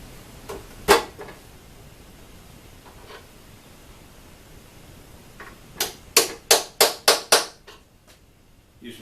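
A hammer strikes a transfer punch to mark lag bolt holes for a 6-inch jointer stand in a workshop: a few isolated sharp taps, then a rapid run of six loud metallic raps close by.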